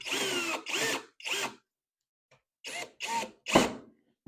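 A power drill drives screws into a Maytag dryer during a heating element replacement. It runs in about six short, loud whirring bursts separated by brief pauses.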